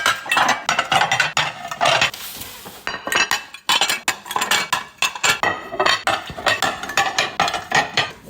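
Ceramic dinner and dessert plates clink and clatter as they are unboxed and stacked, with sharp, repeated, close knocks and chinks in an uneven rhythm.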